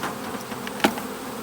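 Honey bees at an open hive during early fall beeyard work, with a steady, low buzzing hum throughout and one sharp knock just past the midpoint.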